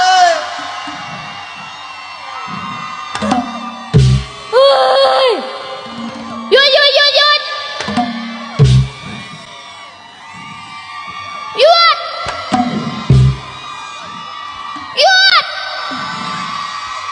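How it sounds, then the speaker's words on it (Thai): A crowd screams and cheers in repeated loud bursts, shrieks and whoops rising and falling with brief pauses, close and energetic. "กรี๊ดดังๆ หน่อย"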